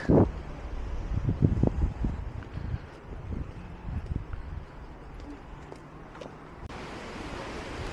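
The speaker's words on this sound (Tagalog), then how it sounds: "Uy, lakas ng hangin." Strong wind gusting outdoors at the Hakone Open-Air Museum in Japan, a steady low buffeting rumble on the microphone with a few sharper knocks early on and no voices.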